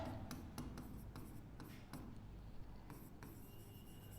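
Pen or pencil writing out a maths solution on paper, a steady close scratching with short strokes and taps, quiet and continuous with no talk.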